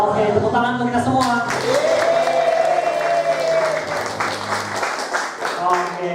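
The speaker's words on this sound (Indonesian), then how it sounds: "Oke, tepuk tangan untuk kita semua." An audience of teachers at an in-house training session claps together, a sustained, even patter of applause over several seconds, with a voice speaking and tonal music or singing layered above it.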